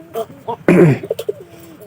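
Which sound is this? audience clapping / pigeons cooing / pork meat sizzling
pigeons cooing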